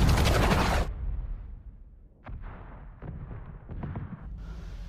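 A heavy bomb blast in a war film bursts at the start, followed by rumbling aftershocks and scattered booms and crackles fading into a low rumble.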